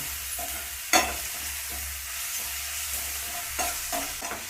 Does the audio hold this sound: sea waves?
no